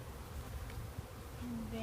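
A honeybee swarm buzzes close by during a swarm removal, a faint steady drone with one bee's hum sliding past near the end, no voices.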